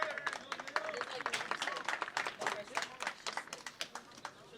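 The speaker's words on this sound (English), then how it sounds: "Fans applaud as number 9 is being substituted." Fans applaud at an RFC v SSC match as the number 9 player is substituted, a steady patter of scattered claps from the crowd running beneath continuous commentator talk.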